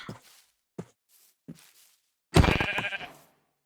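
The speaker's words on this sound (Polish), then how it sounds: "O, jest kolejna owca." A Minecraft sheep lets out a loud, wavering bleat near the end, preceded by a few faint, short clicks and soft steps from the game.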